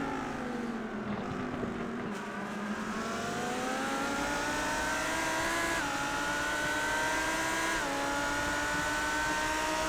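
Race cars on a racing circuit during a Mobiuz Challenger Cup finale race, a loud engine whine with pitch shifting down and up through gear changes as a car approaches the braking zone into turn one.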